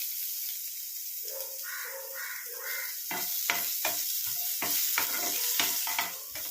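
Chopped coconut pieces frying in a pan for Andhra-style brinjal masala, a soft sizzle with a few tonal chirps early on, then a run of sharp spatula scrapes and stirring clatter.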